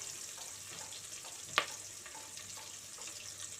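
Onion pieces sautéing in a pan for sambar make a soft, steady sizzle close by, with one sharp utensil click partway through.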